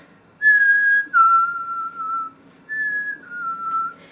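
A person whistles a clear, sweet bird-like song, two sustained descending notes repeated twice, imitating a chickadee.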